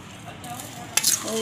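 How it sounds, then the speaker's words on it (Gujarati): Spices stirred into hot oil in a pan while making chana jor garam, a spoon scraping with soft sizzling that rises in a brief louder burst near the middle, close and moderately quiet. "સરસ મિક્સ કરી લેવું."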